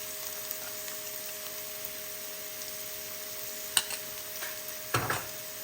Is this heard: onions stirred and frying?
yes